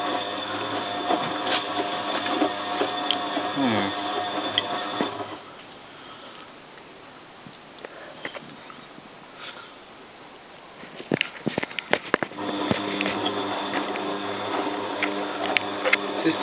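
A Bosch WFF2000 washing machine drum tumbles without heating, a steady mechanical whirring and rumble with rhythmic churning that drops to a quieter lull midway, broken by a few sharp clicks before the tumbling resumes.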